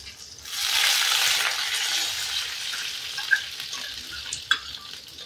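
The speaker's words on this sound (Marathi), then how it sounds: "मिरच्या आता ह्या जराशा परतून घेणार" Green chillies and curry leaves sautéing in a pan tempering for besan dhokla, a loud bright hiss that swells after a quiet start then settles, with a couple of sharp stirring clicks near the end.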